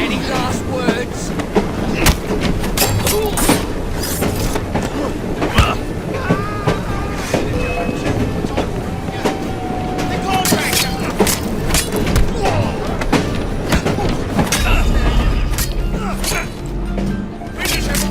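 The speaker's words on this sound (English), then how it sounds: "At least we have a train now." A train in the video game Assassin's Creed Syndicate gives a continuous loud rumble with repeated clanks and rattles of wagons. Voices speak over the noise.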